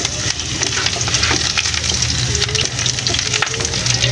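Chopped garlic frying in hot oil for Filipino pancit, a dense continuous sizzle close up with scattered crackles and spatula stirring clicks, no talking.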